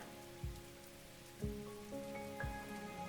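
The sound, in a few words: rain in tropical Tuvalu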